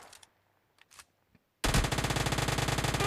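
Uzi submachine gun firing in PUBG Mobile Lite, a loud sustained automatic burst that bursts in suddenly after near silence with a few faint clicks, its rapid shots tightly spaced and steady to the end.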